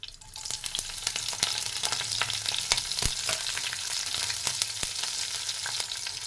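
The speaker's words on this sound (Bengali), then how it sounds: "এবার আমি ফোড়নে দিয়ে দেব অল্প একটু সর্ষে, আর দিয়ে দেবো এখানে কাঁচা লঙ্কা কুচি আর কারি পাতা" Mustard seeds, chopped green chilli and curry leaves hit hot oil and sizzle loudly, a close crackling hiss with sharp pops and spatters scattered through it, no voices.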